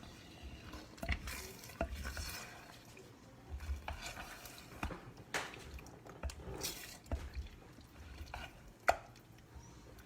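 A big scraper mixes lasagna sauce and ingredients in a rock crock, giving soft wet squishes and scrapes in irregular strokes, close and quiet, with no talking.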